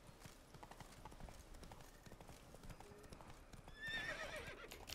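Horse hoofbeats clip-clop at a steady trot in The Witcher 3 video game, ending in a brief whinny, all fairly quiet beneath game ambience.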